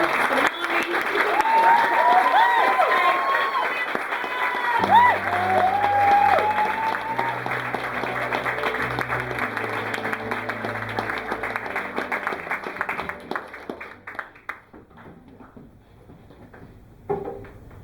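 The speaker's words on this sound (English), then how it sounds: "Please build that rumble of applause." A comedy-night audience at a science comedy show claps in a sustained rumble, loud and dense at first, then gradually thinning and fading out.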